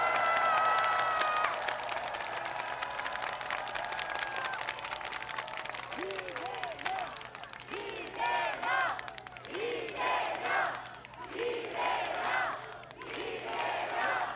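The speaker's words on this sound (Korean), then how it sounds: "서로 격려, 응원의 박수 한번 나누시기 바랍니다." Crowd at an outdoor political rally applauding and cheering, a voice over loudspeakers at first, then rising waves of clapping and shouts from many people.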